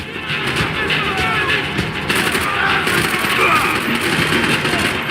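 Gunfire rattles through a firefight in the video game Max Payne 3, a dense, busy mix of shots and battle noise running steadily throughout.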